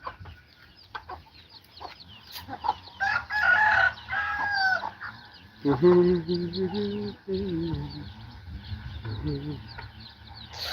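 Chickens cluck busily nearby on a farm while a rooster crows loudly twice, with some voices mixed into the background.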